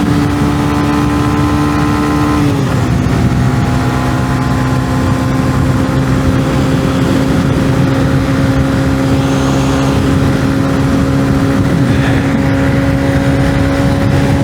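A 125cc motorcycle engine drones steadily while climbing a slight uphill stretch of highway. The tone is loud and sustained, with a clear shift in engine pitch early on as the gear changes, and no talk over it.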